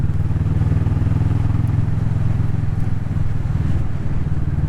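A Kawasaki Vulcan S motorcycle engine drones steadily and loudly while riding over a rough road in Cyprus, with constant rumble and rattling vibration throughout.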